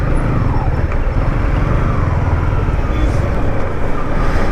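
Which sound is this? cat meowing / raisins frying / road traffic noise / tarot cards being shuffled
road traffic noise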